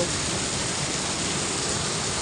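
A dense, steady roar of heavy rain, broadband and unbroken, with no voices over it.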